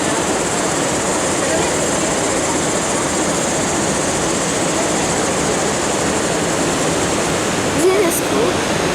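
Niagara River rapids, rushing white water making a loud, steady broadband roar throughout, with a brief faint voice-like sound near the end.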